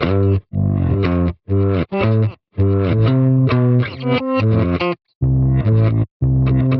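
Misha X instrument run through texturizer and pitch delay effects, playing choppy, gated melodic phrases with distorted, chorus-like processed tones, loud and up close with abrupt silent gaps between bursts.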